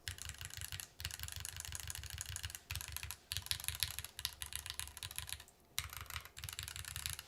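Fast typing on a mechanical keyboard with a brass plate and Milky Way keycaps: dense, crisp clacking keystrokes close up in steady bursts, broken by a few brief pauses.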